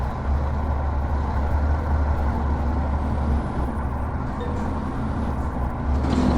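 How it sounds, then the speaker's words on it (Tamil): Upgraded truck engine in the mobile driving game Truckers of Europe 3, a steady low diesel drone that stays loud and even throughout, with no talking. "அப்கிரேட் பண்ண வண்டியோட ட்ரக்கோட சவுண்ட் சூப்பரா இருக்குங்க"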